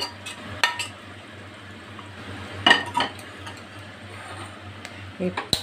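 Okra is stirred into yogurt in a bowl with a spoon, giving scattered clinks and scrapes against the bowl over a low kitchen hum.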